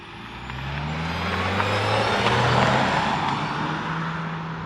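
A 2023 Mitsubishi Outlander PHEV with a 2.4-liter four-cylinder plug-in hybrid and a CVT accelerates hard in power mode, with a loud steady engine drone and rising tones heard from inside the cabin.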